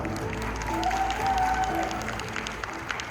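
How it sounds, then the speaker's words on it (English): An audience at a psychic prediction stage show applauds in a steady, moderate wash of clapping that lasts a few seconds, with no clear talk over it. "Let's give them a round of applause"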